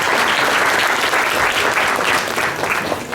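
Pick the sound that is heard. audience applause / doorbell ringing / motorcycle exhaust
audience applause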